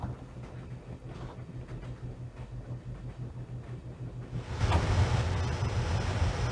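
Train rolling along the tracks in the Broken Sword video game, a steady low rumble with a rhythmic clatter that swells louder and brighter near the end.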